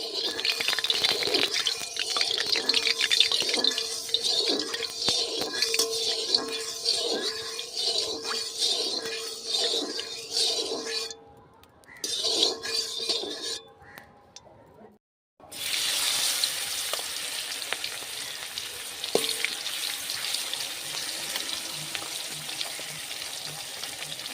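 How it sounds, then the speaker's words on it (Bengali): Turmeric-and-salt-coated shankar fish sizzle in hot oil, a loud, continuous hiss close by that briefly drops away and then resumes with a steadier fry. "তেল গরম হয়ে গেছে এবার আমি লবণ হলুদ মাখানো মাছগুলো আস্তে আস্তে দিয়ে দেবো"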